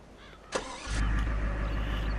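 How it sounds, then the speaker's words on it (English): A Mustang-like sports car in Farming Simulator 17 on PS4 cranks with a short click and starter whir, then the engine catches and settles into a loud, steady low idle. "So we're going to get in and start up the engine."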